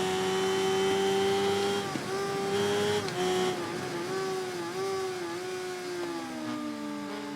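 Rival racing motorcycles in the Ride 3 video game, racing near an MV Agusta F4, give a steady high engine whine that rises and falls through gear changes. The engines sound loud and close and run continuously the whole time.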